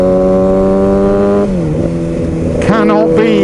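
Kawasaki ZX6R motorcycle engine held at a steady high rev, then dropping and climbing again near the end, loud and close, with a voice speaking over it.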